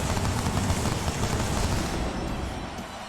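Fireworks bursting during a wrestler's entrance in WWE SmackDown vs Raw 2010, a loud, dense crackling barrage that holds steady and eases slightly toward the end.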